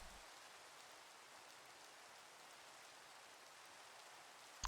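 Steady Minecraft rain hiss, even and continuous with no break, fairly quiet and heard alone without any talking.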